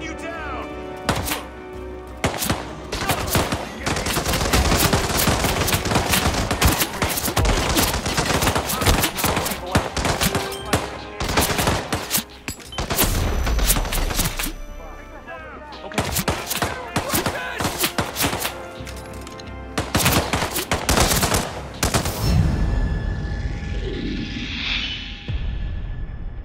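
Gunfire in the video game Hitman 3 comes as repeated loud, close bursts and rapid shots, broken by brief pauses across a long stretch, with thuds and some game voices mixed in.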